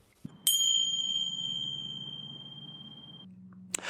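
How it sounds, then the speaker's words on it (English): A single bright bell ding rings out clearly and decays with a long shimmering tone over a quiet background, marking a podcast break, followed by a soft low hum and a faint click at the end. "That bell was just to alert you that we're going to take a quick break"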